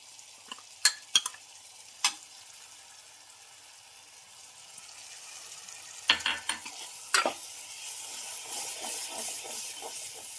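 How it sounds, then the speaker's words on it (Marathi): Ground masala paste fries in oil in a pan as it is stirred, with a steady close sizzle and a few sharp spoon scrapes and clatters, growing denser and louder toward the end. "चांगलं मस्त हलवून घ्यायचं याला"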